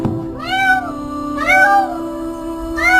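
A frightened cat trapped deep down a well lets out three loud, drawn-out meows in a rising-and-falling wail, spaced about a second apart, with a hollow echoing quality.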